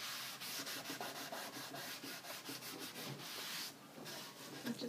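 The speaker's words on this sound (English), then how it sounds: "rub the wax into the wood in the direction of the wood grain" Wax being rubbed by hand into a painted wood finish in the Swedish style, worked along the grain: a steady, close, continuous scrubbing and rubbing with rhythmic strokes and no talking.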